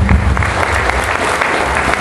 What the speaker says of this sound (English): Let's have a round of applause for all of our candidates, Mayor and District 9.